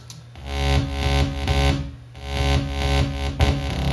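Synth bass line called strobe from a remix, a loud distorted sequence of repeating low notes in a steady pulsing rhythm, played alone without talk.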